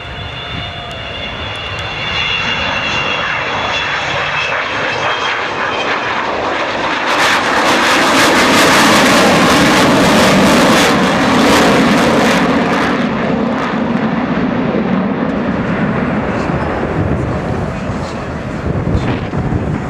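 Avro Vulcan jet bomber at the RIAT airshow coming in with wheels down for a go-around, a loud continuous jet roar that swells into a harsh, broadband howl as it passes close, then slowly eases.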